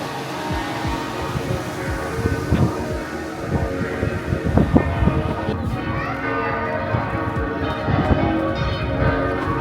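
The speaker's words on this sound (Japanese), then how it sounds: "鐘が鳴ってる。" A church bell rings in the mountain village of Andermatt, Switzerland, its clangs repeating irregularly within a busy outdoor mix of footsteps, rumble and distant activity, the tone blending into the surrounding noise.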